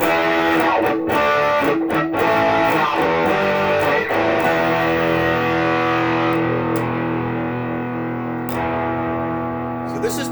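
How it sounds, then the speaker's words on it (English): Donner DST-550 electric guitar through its humbucker pickup with distortion: a few strummed, heavily overdriven chords ring out loud and sustained, then decay slowly, with no voice over them. "So this is the humbucker with distortion."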